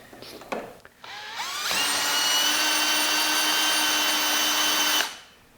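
A lathe cutting tool takes a trimming pass on the edge of a milling arbor taper, a steady loud whine with a rising tone at the start, holding for about three seconds before cutting off abruptly.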